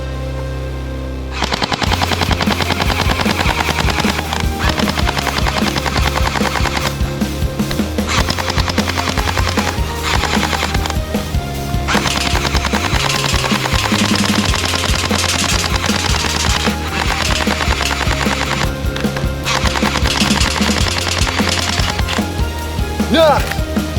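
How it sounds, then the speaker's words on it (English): A toy gel blaster machine gun fires in a loud, continuous stream of rapid automatic bursts that runs almost the whole clip, with a dense, steady rattle layered over other sound. "Gel blaster machine gun!"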